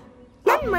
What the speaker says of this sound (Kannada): ಯಾಕೆ ಬಗ್ಳುತ್ತಿದ್ಯ ನೀನು?